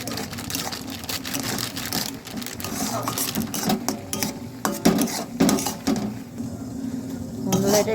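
Semolina dough is worked in a pan of boiled salted water, with repeated scraping, knocking and stirring of a utensil against the metal pan at an irregular rhythm. The sounds are close and moderately loud, with no clear voices.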